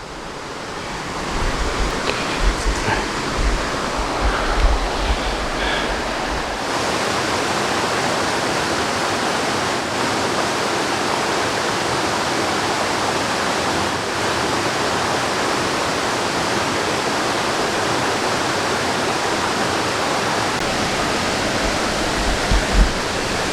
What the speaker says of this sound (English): Waterfalls up the way.